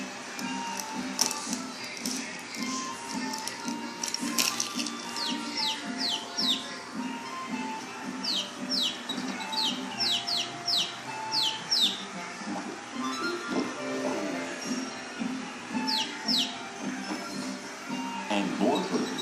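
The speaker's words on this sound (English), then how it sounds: "There were birds" Birds chirping and squawking in quick, clustered bursts, moderately close, under steady talking throughout.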